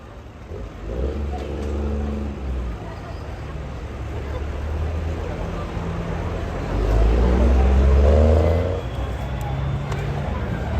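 A pulling vehicle called the Charger spools up at a county fair pull: a loud, steady engine drone that swells into a deeper, heavier roar near the end, with an announcer's voice running under it.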